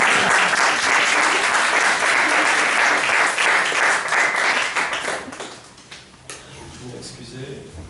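Audience applause at a poetry reading in a Paris gallery, dense clapping that holds strong then thins and fades out over the last few seconds, with a voice speaking near the end.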